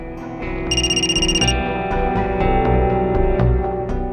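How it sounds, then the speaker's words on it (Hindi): A telephone rings with a repeating electronic ringtone, a bright patterned trill in a quiet indoor scene, sounding alone without any talk. "निशा के पापा का फोन, क्या करें?"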